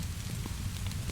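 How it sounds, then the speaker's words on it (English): Rain falling on a skylight makes a gentle, even patter with scattered soft drops over a low, steady wash of sound. "The rain traced ever-changing patterns down the skylight"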